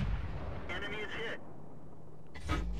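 A tank cannon from the Alecto in World of Tanks fires in battle: one brief, heavy boom among broadband rumble and clatter, with a second blast hitting near the end over low ambient noise.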